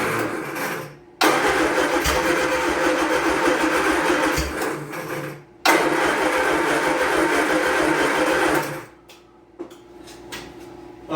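An old Triumph Spitfire's engine, after years of sitting, cranks and catches, running roughly at idle, then cuts out; it restarts, idles again, and stops, leaving quiet clicks.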